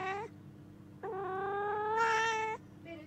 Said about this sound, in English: film your cat's reaction to the sound and then the meow comes